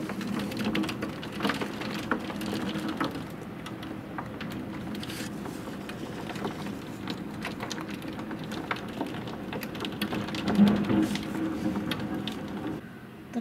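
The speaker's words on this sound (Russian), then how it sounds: "Сейчас град помельче, но более густой" Dense, smaller hail pelting down steadily in a dark thunderstorm, with older hail still lying unmelted; a continuous close rattling patter with faint low rumbles of thunder, alone without talk.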